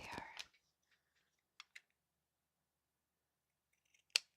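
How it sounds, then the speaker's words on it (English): Pinking shears are picked up and snip a few times, giving faint, sparse clicks and cuts in a quiet room after a brief voice at the start. "Where'd my pinking shears go?"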